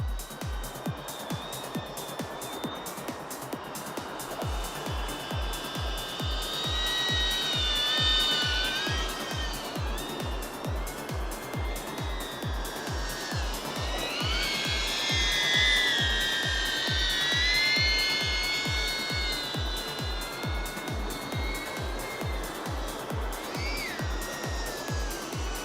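A DJI Avata FPV drone in flight, its high buzzing motors rising and falling in pitch as it maneuvers and strains, sustained and fairly close with a rapid pulsing rhythm, no talking.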